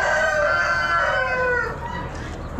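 Chickens at an Amish auction cluck and call in a dense, overlapping chorus of tonal crowing close by, the flock noise holding steady before easing slightly toward the end.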